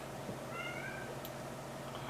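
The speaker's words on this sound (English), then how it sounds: "The black cat that's crying out for help right now, he's spoiled." A black cat meows, one or two faint, drawn-out plaintive cries heard against quiet indoor room background.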